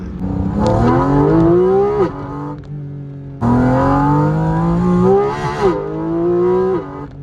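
A Porsche GT4 RS Weissach flat-six engine drones and rises in pitch as it accelerates while driving, eases off, then pulls again in a second climbing surge.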